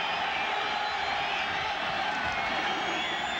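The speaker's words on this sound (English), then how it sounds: "Well, the crowd is roaring now." A distant, steady roar rises from a packed football stadium crowd at the 1994 Sun Bowl, a broad, even wash of noise with no distinct cheers standing out.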